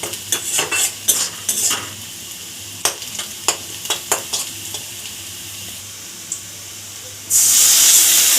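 Onions and spices fry in a pan for an Odisha-style fish head dal with cabbage, with a series of sharp spoon scrapes and stirs over a soft sizzle, ending in a sudden loud hiss of steam.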